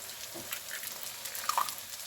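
Potatoes, onions and mild sausage with two added eggs are stirred in a frying pan, giving a steady soft sizzle with faint scraping and a few brief clinks near the end.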